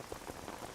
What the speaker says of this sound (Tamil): வெளியே ஒரே மழையா இருக்கு